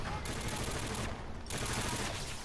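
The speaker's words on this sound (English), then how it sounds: "I even started shooting at something so that" Rapid automatic gunfire in Call of Duty: Infinite Warfare, a dense continuous burst of shots with brief drops in intensity, loud and close throughout.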